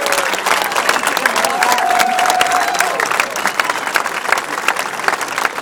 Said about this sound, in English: Let's give a huge round of applause for Peter Kamais.